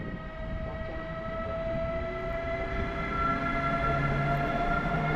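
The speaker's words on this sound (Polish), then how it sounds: "Ekspres Intercity Berlin-Warszawa Ekspres." A Berlin-Warsaw Intercity Express train at Warszawa Wschodnia station, led by a modernised 1991-built first-class carriage, rolls through with a steady loud rumble and sustained tonal rail squeal throughout.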